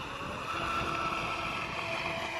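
A boat motor runs at full throttle, making a steady, fairly quiet droning whine with a constant engine tone and wind rush throughout, and no voices.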